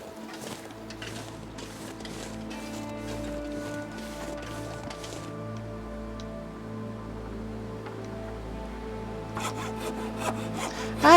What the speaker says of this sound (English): I did not mean to use the hacksaw.